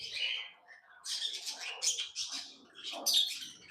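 A lovebird colony in an aviary gives off a flurry of high, sharp chirps and squeaky calls in irregular overlapping bursts, close and lively.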